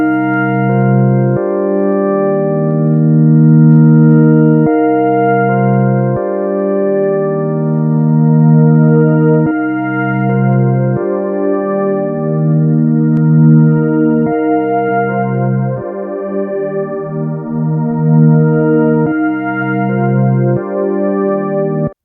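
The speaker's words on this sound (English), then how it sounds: "And now in stereo mode it sounds like this." Sustained harmonic synth chords run through a Soundtoys Microshift effect in stereo mode, a subtle shimmering widening on steady tones that shift every few seconds, loud and continuous with no voices.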